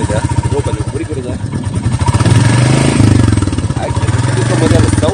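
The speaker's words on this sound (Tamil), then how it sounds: "புல்லட்டோட சவுண்டு மட்டும் கேளுங்க" A Royal Enfield Bullet 350 single-cylinder motorcycle engine idles and revs nearby with its loud, deep thumping beat. The pulsing swells as the throttle opens, and someone talks over the engine note.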